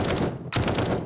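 An automatic rifle with a fast fire rate in the video game 7 Days to Die lets off a short, rapid burst of closely spaced shots, broken by one brief gap midway.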